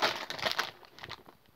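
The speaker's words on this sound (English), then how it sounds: "Sorry if there's some crinkling noises." Plastic packaging around a squishy toy crinkles and crackles in quick, soft bursts close by, fading toward the end.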